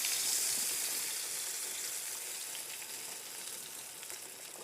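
Loud, dense sizzling hiss of green tomato slices frying in a pan, strongest at the start and easing slightly as it continues without any talking.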